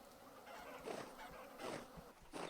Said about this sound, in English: I thought the bees were terrorizing the chickens for a second